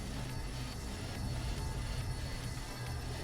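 Low, steady roar of a spaceship afterburner in Star Citizen, with the Argo or Reliant craft in flight, a constant rumbling drone with a faint pulsing hiss running evenly throughout.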